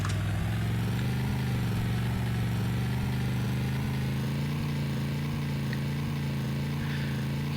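Vehicle engine in Garry's Mod with a torque-driven transmission, wheel and engine RPM linked; a steady, buzzing motor drone holds at an even pitch throughout, fairly close and continuous, with no talk.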